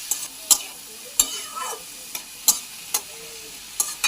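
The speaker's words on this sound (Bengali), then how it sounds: "তেলটা গরম হয়ে গেলে এই জিনিসগুলো ঢেলে দেবো। একটু নেড়ে চেড়ে ঢাকা দিয়ে দেবো।" Chopped ash gourd and chilli sizzle softly in hot oil while a spatula stirs them, giving sharp scraping clicks at irregular intervals over a faint frying hiss, with no talk.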